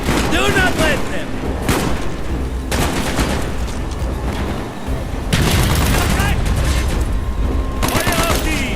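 Bursts of automatic gunfire and explosions from the Call of Duty Black Ops video game come in waves, loud and close, while shouted voices carry over the shooting.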